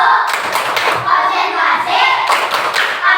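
A group of children claps a rhythmic concentration clap in a classroom, dense and loud, steady beats filling the whole stretch with faint voices mixed in.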